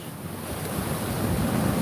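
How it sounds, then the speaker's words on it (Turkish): Ocean waves breaking on a beach, a rushing low roar that swells gradually louder, with wind buffeting the microphone and no voices present. "dalga çekiyorum arkadaşlar"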